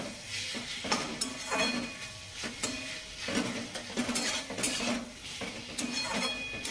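A spoon clinks and scrapes against a metal pan while kochur loti curry is stirred, giving repeated close strokes with a faint sizzle underneath.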